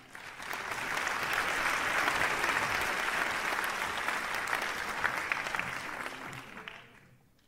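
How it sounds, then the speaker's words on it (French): An audience at a song festival in Côte-d'Or bursts into sustained applause, a dense even wash of clapping that swells quickly, holds for several seconds and then fades out near the end. "je vous demande d'applaudir"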